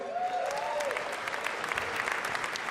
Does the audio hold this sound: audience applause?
yes